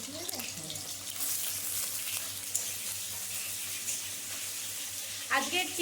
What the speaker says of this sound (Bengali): ও এখন আলুগুলো ভাজছে